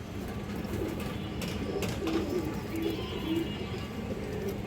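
A female pigeon coos softly in a few low, rounded calls over a steady background murmur.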